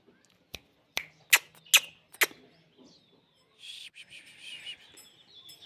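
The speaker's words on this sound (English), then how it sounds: "This is my beautiful pigeon." A pigeon calls nearby. A series of sharp clicks or taps comes first, then a soft, breathy warbling coo that rises and lingers for a couple of seconds.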